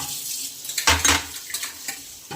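Fennel and mustard seeds dry-roasting in a pan over low heat, stirred in close, rustling, scraping bursts that swell briefly in the middle and fade back to a soft, steady rattle.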